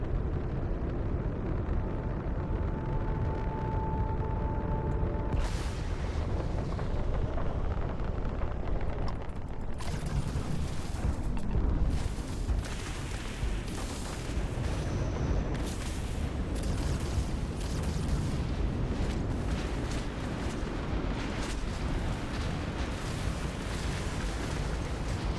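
Explosions in a video game rumble and boom in a continuous, heavy roar, with repeated blasts layered over deep, sustained low-end noise and no talking.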